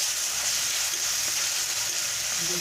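Ginger and garlic paste frying in a pan, a loud, steady sizzle that stays constant throughout.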